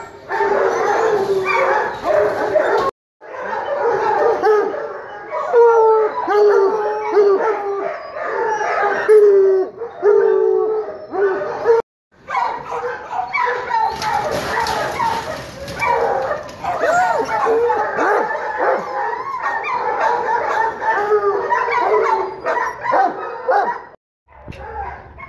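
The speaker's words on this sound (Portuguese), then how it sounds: "Estamos com a cachorrada já." A pack of hunting dogs on a wild boar hunt barks, yips and howls continuously and loudly at close range, a dense overlapping chorus broken only by brief pauses.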